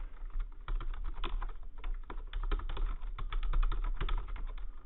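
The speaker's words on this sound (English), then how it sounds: "I'm just going to actually type it out really fast for you." Fast, continuous typing on a computer keyboard, dense clattering keystrokes in a steady stream over a low hum, close and clear.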